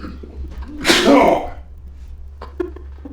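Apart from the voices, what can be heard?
sneeze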